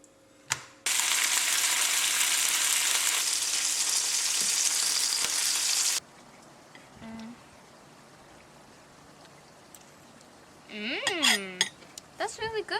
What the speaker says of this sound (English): now that the butter has melted, I'm going to add kippers to the pan